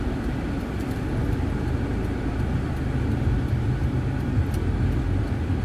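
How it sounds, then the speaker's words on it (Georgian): A car's engine hums in a steady low rumble while the car is being parked, constant and fairly close throughout with no voices. "წავედით ახლა მე და თქვენ დავაყენოთ მანქანა"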